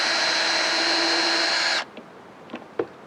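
A power drill runs steadily at a high whine for nearly two seconds drilling into wood, then stops, leaving a few faint clicks and knocks nearby.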